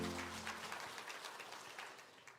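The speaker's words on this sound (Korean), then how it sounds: "네, 감사의 박수를 하나님께 드리겠습니다" A church congregation claps in thanks to God at a 69th anniversary service, a soft, fairly distant patter of applause that slowly fades, with faint low hum at the start.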